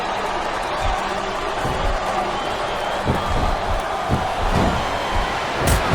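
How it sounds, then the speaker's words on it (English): Arena crowd noise from a WWE Smackdown vs RAW 2007 wrestling match between Lita and Torrie Wilson, a steady roaring wash of cheering spectators with scattered thuds and slams throughout, loud and continuous. "I love hearing the crowd come alive."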